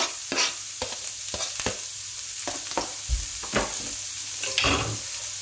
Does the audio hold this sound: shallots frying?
yes